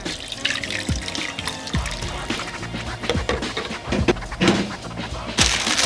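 Hot water poured into a bowl with a dollop of miso for soup, a close, continuous splashing trickle with small irregular bursts, heard in a Tokyo kitchen with faint background sounds.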